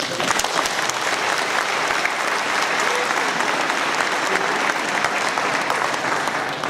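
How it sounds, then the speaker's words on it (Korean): A church general assembly crowd gives the election committee a warm round of applause at a Presbyterian officer election; sustained, loud, even clapping from a large hall, with faint voices underneath. "우리 수고하신 선관위원회 뜨거운 박수"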